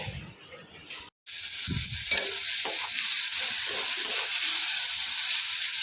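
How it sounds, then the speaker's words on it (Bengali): Fish pieces coated in salt and turmeric drop into hot oil, and a loud continuous sizzle rises suddenly after a short gap, with faint scraping and bubbling beneath; a little earlier handling noise comes before it. "এখন মাছটা ভাজতে বসাবো"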